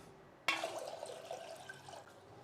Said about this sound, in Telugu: మంచినీళ్ళు పోస్తున్నాను 2 గ్లాసులు.